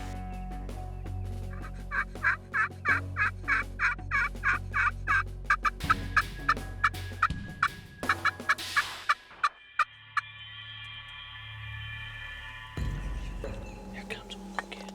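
Wild turkeys gobbling in the woods during a morning hunt with blind calling, a long run of rapid repeated gobble bursts, fairly close and loud, followed by further calls and scattered softer sounds.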